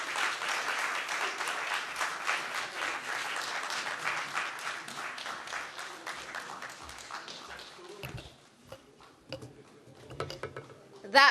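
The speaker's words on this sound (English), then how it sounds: "The clap should be louder." An audience applauds steadily at a Ghana Journalists Association anniversary lecture after a speech ends, the clapping thinning out toward the end with a few scattered claps and stray voices.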